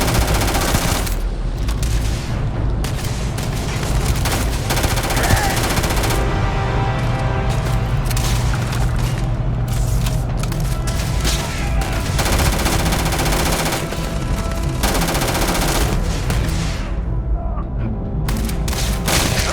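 Loud firefight in Starfield at a loading bay, dense bursts of automatic gunfire and heavy booms coming in waves with brief gaps, voices shouting amid the shooting.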